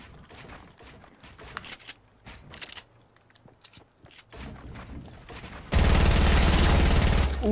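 P90 submachine gun fire in a video game: scattered clicks and shots lead into a loud, dense burst of sustained automatic fire near the end.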